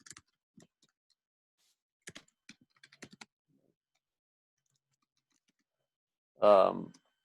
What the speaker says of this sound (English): sorry, I'm typing it for you.